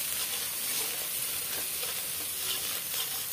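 Spices fried and stirred in a pan for a fish curry, a dense continuous sizzle with a spoon moving through it, close and fairly loud with no talking.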